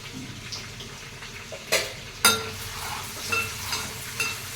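Eggs fry in a pan with turmeric, giving a continuous soft sizzle close by. A utensil stirs the pan, with two sharper clinks against the metal and lighter scraping afterward.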